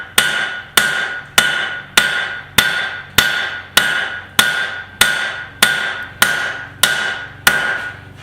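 Hammer forging steel for a garden cultivator, a steady series of about a dozen sharp ringing blows at an even rhythm, close and loud with no talk.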